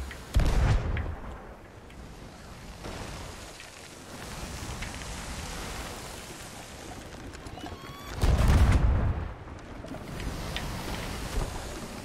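Ship cannon fire in Sea of Thieves at sea: two heavy booming blasts several seconds apart over a constant wash of water and wind, loud and close, with no talking.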